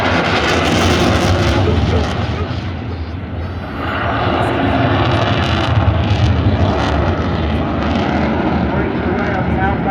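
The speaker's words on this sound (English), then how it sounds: "then rolls those EJ200 into full afterburning" A Eurofighter Typhoon jet with EJ200 engines on full afterburner at an airshow, a loud, broad roaring rumble that dips briefly then surges back and holds, while a commentator talks over it.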